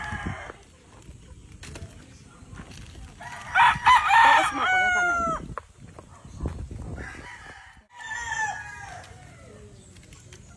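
Chickens cluck and a rooster crows loudly in short bursts at close range, with a person's voice talking between the calls.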